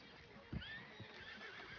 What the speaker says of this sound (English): I recognize the horse is Rayland, right?